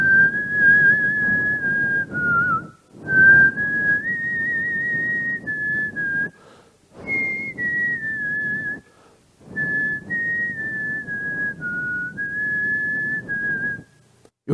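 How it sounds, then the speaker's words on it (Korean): A man whistles the theme song of the Korean drama Sandglass, a clear, steady melody in long sustained phrases with a few short pauses between them, close and alone with no talking. "휘파람도 잘 부네요"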